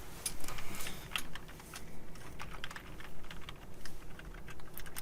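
Fast, steady typing on a computer keyboard, close and fairly quiet, with rapid clicking keystrokes running throughout and no speech.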